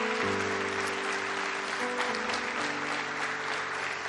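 Congregation applauding during a church service, a steady wash of clapping heard over sustained organ or keyboard chords.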